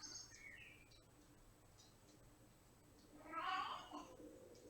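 A house cat gives a single short meow near the end, faint and fairly close over a quiet room hiss.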